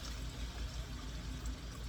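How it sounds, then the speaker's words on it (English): Beef broth being poured, a soft continuous watery trickle with low gurgling, close and fairly quiet, with no talking. "Beef broth is what you're going to want next. Take some, pour it this way"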